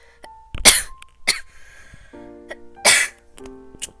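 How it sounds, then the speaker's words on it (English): A few sharp, explosive coughs close up, separated by brief pauses with faint tonal sounds between them. "bit of a cough"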